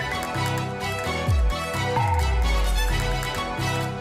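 Later section of the Zelda: Breath of the Wild battle theme: dense, energetic orchestral-electronic music with pulsing bass, sweeping downward swoops and driving rhythm, loud and continuous without voices.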